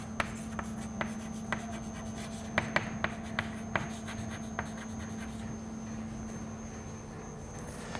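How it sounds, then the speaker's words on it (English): Hand writing of an equation, a faint steady scratch broken by sharp taps and strokes at irregular intervals over a constant low hum, with no speech. "So I'm just going to write down the equation for you."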